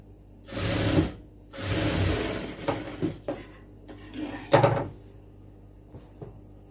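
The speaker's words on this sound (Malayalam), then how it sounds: "ഞാനിവിടെ ഒരു സ്റ്റിച്ചും കൂടെ ഇട്ട് കൊടുക്കുകയാണ്." A sewing machine stitches churidar lining in short runs: two longer whirring bursts, several quick stitches, and a final short burst, with quiet pauses in between.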